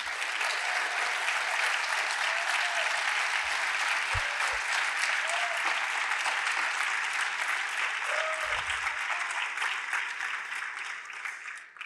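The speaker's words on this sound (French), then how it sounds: "vous pouvez les applaudir chaleureusement." Conference audience at Forum PHP 2022 applauding the speakers at a closing keynote; a large room's steady, loud, continuous clapping that tapers slightly at the end.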